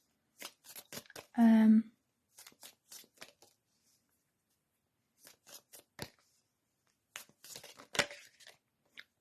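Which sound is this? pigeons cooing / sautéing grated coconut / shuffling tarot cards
shuffling tarot cards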